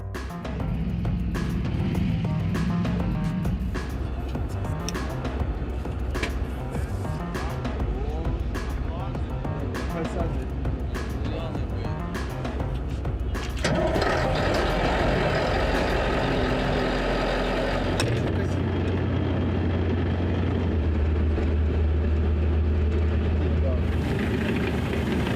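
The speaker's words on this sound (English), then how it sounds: "Some might say that we are riding the best infantry fighting vehicle ever made" A CV90 infantry fighting vehicle driving, heard from inside: a loud, steady engine and track rumble runs throughout, with the engine note shifting partway through.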